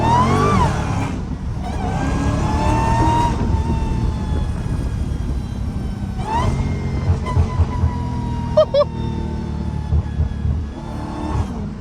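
A Dodge Hellcat with straight pipes, a mid-muffler delete and a JLT cold-air intake drives along, its exhaust rumbling and revving in surges with whining acceleration and a few sharp pops, heard from inside the car.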